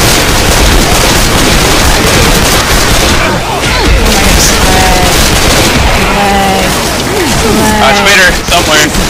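Dense, loud gunfire and explosions rage throughout a chaotic firefight in the game I Hate Mountains, with continuous shots and booms as players shout over the din.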